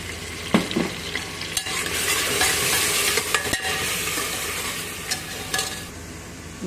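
Onions with green chillies and ginger garlic paste fry and get stirred in a pan for a seeraga samba mutton biryani, a steady close sizzle broken by scraping stirs, with no talk.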